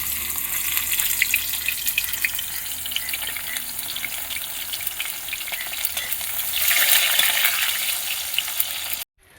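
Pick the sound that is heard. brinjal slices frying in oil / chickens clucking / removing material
brinjal slices frying in oil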